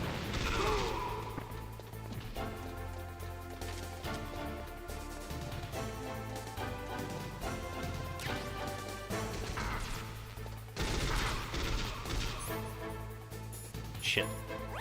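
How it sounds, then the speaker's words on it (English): Enemy soldiers open fire in Metal Gear Solid 3, sharp cracks and bursts scattered over a steady game soundtrack, with louder hits near the start and around the end. "And then the guys in front of me do just shoot me."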